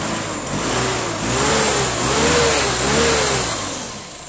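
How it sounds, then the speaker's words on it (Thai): A mildly modified car with a 2,500 cc engine revs as the accelerator is tapped, a steady mid-pitched engine drone swelling and easing in a few rising-falling waves, close and loud with no talking. "แต่ลองแตะคันเร่งหน่อยครับ"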